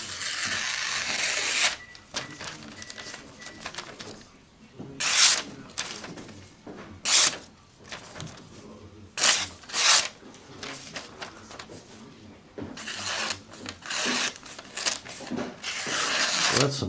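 A razor-sharp knife push-cuts through paper in a series of short, smooth rasping strokes, separated by quiet pauses, close and fairly soft.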